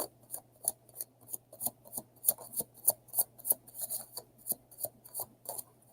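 Tarot cards are shuffled close up in a quick repeated rhythm of crisp riffling bursts, about three per second, with no talking over them.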